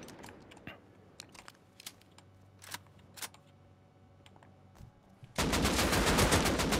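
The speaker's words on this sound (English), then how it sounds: "I can hear gunshots. I'm getting close." Gunfire in a video game: scattered sharp cracks over a low rumble, then a sustained loud burst of rapid automatic fire near the end.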